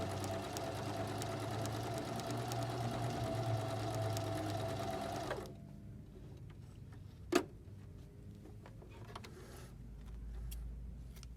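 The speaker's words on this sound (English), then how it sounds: "Do you see the machine going forward and reverse, forward and reverse?" A Baby Lock Zeal sewing machine runs a triple straight stitch forward and in reverse, its motor whirring and ticking steadily for several seconds before stopping, then a sharp click and quieter mechanical sounds.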